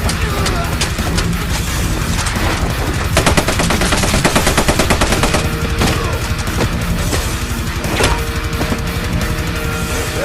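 Rapid automatic gunfire from a film battle scene rattles in dense bursts, loud and close, heaviest mid-clip, with scattered single shots and booms, partly under a narrator's voice.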